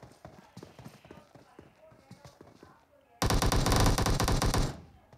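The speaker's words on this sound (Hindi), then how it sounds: "विकिल एलएस आगे से आते हुए लगातार फायरिंग" A PUBG battle royale match: after a stretch of commentary with faint background noise, a loud, dense burst of continuous gunfire erupts for about a second and a half, then stops abruptly.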